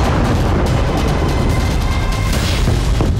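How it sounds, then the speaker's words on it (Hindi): Heavy, continuous rumbling booms from a strike on Israel's Ramat David airbase roll through the whole stretch, loud and dense like a blast or sustained bombardment, with no voices. "पहला धमाका"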